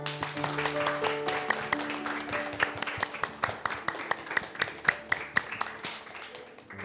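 An audience claps to welcome a guest named Tommy, with many sharp, fairly regular claps that grow more distinct toward the end over a faint background hum and light voices.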